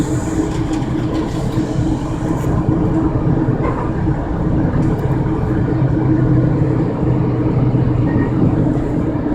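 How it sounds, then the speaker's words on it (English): Steady loud rumble and rattle from inside a moving Amtrak passenger train, continuous low wheel and carriage noise with faint clicks throughout, no talking. "now we're on the Amtrak, I think it's Amtrak train."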